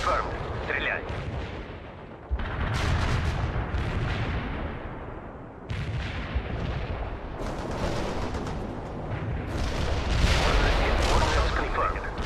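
Heavy artillery barrage in the World in Conflict video game, a dense roar of overlapping booming blasts and rumbling impacts that swells in waves, with radio-style voices talking over it.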